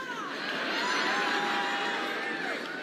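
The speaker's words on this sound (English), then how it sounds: "Man, that is a big crowd" A big crowd at a CPAC event cheers and roars in a continuous swell that builds to a peak midway, a dense wash of voices filling a large hall.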